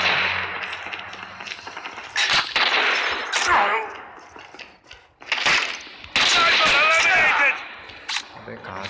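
Gunfire in a multiplayer shooter video game match, with sharp repeated shot bursts and rapid volleys at close range mixed with game noise and someone talking throughout.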